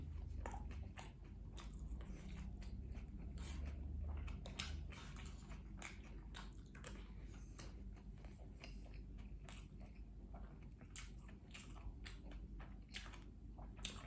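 A bite of 7-Eleven rice topped with cheese corn is chewed close to the mic, giving a steady run of soft, wet crunches and mouth clicks over a low background hum, with no talk.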